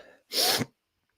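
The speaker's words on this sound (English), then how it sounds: "I think I'm about to sneeze." A single sharp sneeze, loud and close, following a moment of faint murmuring, then silence.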